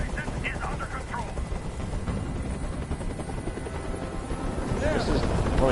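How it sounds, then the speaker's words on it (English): A helicopter in the Detroit: Become Human video game drones steadily with rotor thumping and gunfire-like bursts. The sound swells louder toward the end, and voices talk over it. "Tell that helicopter to get out of here."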